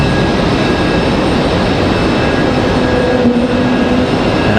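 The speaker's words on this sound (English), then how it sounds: "And I hear an A220." An Airbus A220 airliner passes near Raleigh-Durham International Airport, its jet engines making a loud, steady broadband roar that holds evenly throughout.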